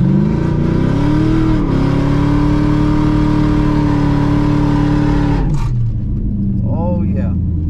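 A Chevy Blazer with a swapped-in 4.8 LS V8 and a cold air intake revs hard, its engine note holding steady and loud, then dropping sharply as the throttle closes, with voices mixed in.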